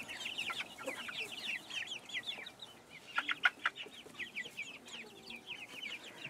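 Young chickens from a black, chocolate and lavender split grow-out flock cluck and chirp in a steady stream of quick, faint calls, with a brief louder burst partway through.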